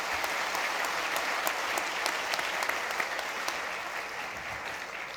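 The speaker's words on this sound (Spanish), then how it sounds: "Pido para ellos pues un fuerte aplauso" Audience applause at a coffee book launch, a steady, moderately distant patter of many hands clapping that fades slightly toward the end.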